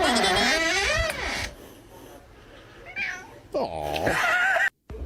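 A cat lets out loud, drawn-out, wavering meows close by, with a second loud yowl near the end, while people exclaim in the background.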